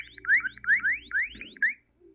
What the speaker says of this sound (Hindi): जैसा कि आप लोगों ने देखा एकदम सायरन बजने लग गया था